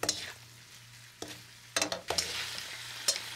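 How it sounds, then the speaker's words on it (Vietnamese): Tomatoes are stir-fried in a pan for a pork intestine and pickled mustard greens dish, giving a quiet steady sizzle broken by several sharp scraping stirs of the utensil. "Sau đó thì mình cho cà chua vào, đảo đều khoảng 30 giây"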